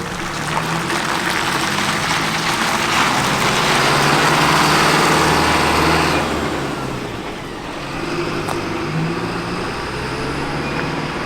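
A truck engine hums and rumbles on the road to Launceston, a steady drone with tyre and road noise that swells midway, then eases and settles again, with no one speaking.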